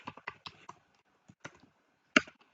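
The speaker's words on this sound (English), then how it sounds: "If I go down here and I type" Irregular clicks of computer keys typed in short bursts with gaps between, close and crisp, ending in one louder keystroke.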